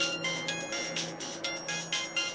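An electronic phone ringtone plays a repeating melodic pattern in short pulses, clear and fairly loud, with no voices.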